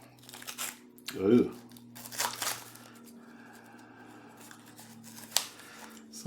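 Scissors cut through the label and foldover wrap on a package of Limburger cheese: a short crinkly snip and tear of paper near the mic, with a brief spoken exclamation and some light crackling afterward.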